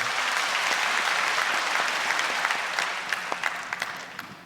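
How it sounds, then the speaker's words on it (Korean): A church congregation applauds during a sermon, with dense, loud, sustained clapping that gradually thins out into scattered individual claps near the end. "하나님께 영광의 박수 올려드리겠습니다"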